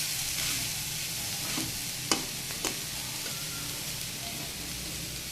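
Taro root and jackfruit seeds fry in a pan, a steady soft sizzle running throughout with a couple of sharp stirring clicks near the middle.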